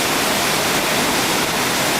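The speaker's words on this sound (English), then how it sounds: "There's water falling." Puerto Rico waterfall rushing steadily, a loud, close, even wash of broadband water noise with no talk.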